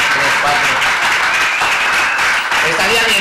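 An audience applauds loudly and continuously at a clown comedy show in Vigo, a dense wash of clapping with a voice talking over it.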